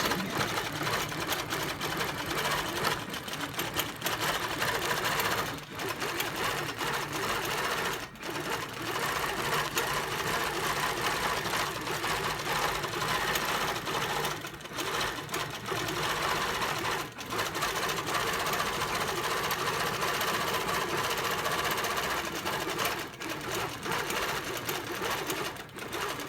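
A computerized sewing machine stitches out a motif, humming steadily and closely for the whole stretch with a few brief pauses and no talk.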